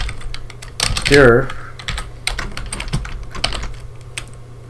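Quick keystrokes tap on a computer keyboard in scattered bursts while code is entered, clicking up close alongside a brief spoken word.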